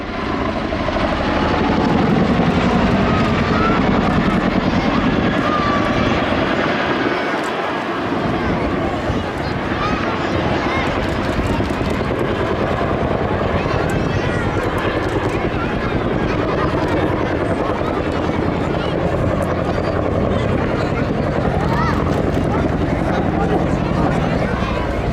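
A large twin-rotor Chinook helicopter roars continuously nearby at an armed forces day event, a loud, dense rumble with rotor thumping that holds steady throughout, with a voice talking over it.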